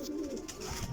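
Pigeons coo softly, low and throaty, in a brief outdoor moment with faint background noise and no talking.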